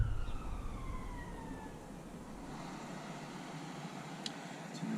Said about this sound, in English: Excuse the police sirens.